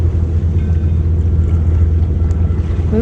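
A sailboat motors back up a channel, its engine a low steady rumble under wind buffeting the microphone and the wash of water, with no one talking.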